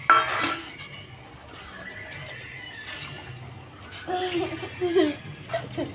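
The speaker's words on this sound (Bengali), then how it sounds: "প্রথমে পাঁচ বাটি দেব পাউডার সাবুটা দিয়ে মিক্স করে নেব ভালো করে" Sago powder being mixed in a bowl for papad, with clinking and scraping of a utensil and dishes under voices talking in the background.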